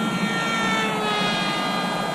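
An RMRC Strix Goblin RC plane flying at low throttle, a steady, fairly quiet whirring motor drone with a faint high whine, holding constant as it passes with no talking.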